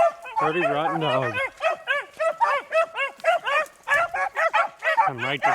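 A beagle bays repeatedly during a rabbit hunt in West Virginia, its drawn-out howls and yelping barks following one another in a steady rhythm, close and loud, with a voice heard briefly.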